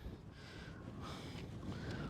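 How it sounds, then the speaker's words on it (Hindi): Wind blows at a high hilltop viewpoint in Mandu, a steady broad rushing buffet against the microphone that swells slightly throughout, with no talking. "क्या हवा चल रही है यहाँ।"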